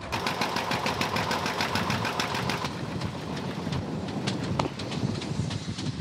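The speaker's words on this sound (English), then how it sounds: "It's powered by a 9-horse Climax engine that come out of the oil fields in Wyoming" A 9-horsepower Climax engine from the Wyoming oil fields drives an old pump jack at an antique tractor and steam engine gathering, its steady rhythmic knocking beats chugging close and loud throughout.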